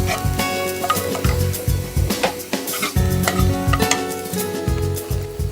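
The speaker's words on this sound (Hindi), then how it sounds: "इसमें 2 कटे हुए प्याज डालते हैं। इसको हम पिंक करेंगे।" Two chopped onions stir-fry in a pan for fish kebabs, a continuous sizzle broken by repeated stirring scrapes and clinks, steady and close with no talking.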